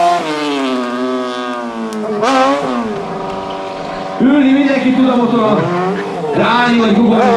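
A streetfighter motorcycle at a stunt show in Szombathely, with high-pitched engine whines that rise and fall as it revs and squeals its tire, continuing loudly throughout, while a crowd and an announcer are audible.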